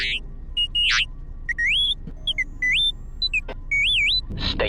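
A string of electronic robotic beeps, chirps and rising warbling tones in quick irregular bursts, like a droid chattering, with a soft rumble underneath, from the video game Star Wars: Knights of the Old Republic II.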